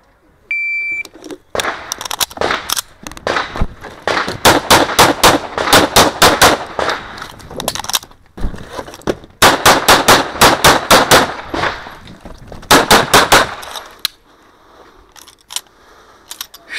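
At a practical shooting match stage in production division, a sharp electronic start beep sounds, then bursts of rapid, loud gunfire ring out in several close volleys separated by short pauses.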